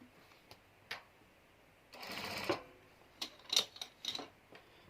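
A sewing machine stitching a seam on fabric for a Turkish-style outfit, with faint, soft bursts of rapid mechanical whirring and ticking interrupted by short pauses, no voices.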